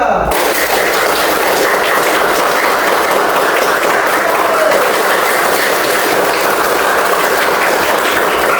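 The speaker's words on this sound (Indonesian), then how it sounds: "untuk mereka pun tepuk tangan sekencang-kencangnya" A classroom of students claps hard and fast as loudly as they can, a thick continuous roar of applause filling the room from start to finish.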